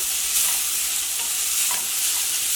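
Cabbage and carrot being stir-fried in a pan, a steady close sizzle with soft scraping stirs throughout, no voices.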